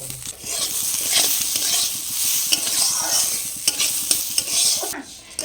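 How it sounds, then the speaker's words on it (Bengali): Dal lentils frying in a wok along with fried bitter gourd, loud steady sizzling with a rhythmic scraping stir running through it and a few sharper clicks from the spatula. "ডালটা 2 মিনিট ভেজে নিয়েছি।"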